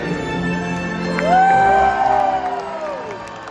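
Audience at an orca show cheers and whoops for a killer whale's bow jump, a broad crowd roar swelling midway with shrill rising yells on top, then easing off.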